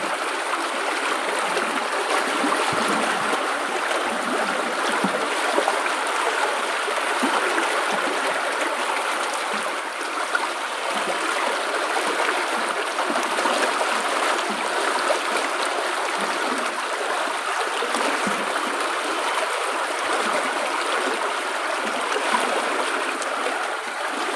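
Water gurgles and babbles steadily along a stream, a continuous, even rush with no breaks and no voices, heard close and alone.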